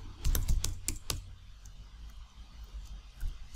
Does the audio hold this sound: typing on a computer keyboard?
yes